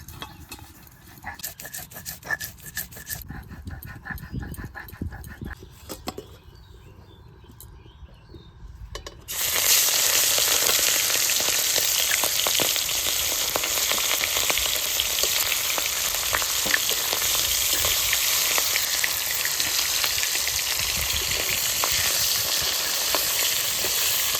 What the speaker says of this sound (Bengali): ইলিশ মাছ তো বেশি ভাজবো না হালকা ভেজে নিয়েছি